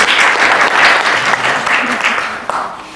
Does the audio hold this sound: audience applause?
yes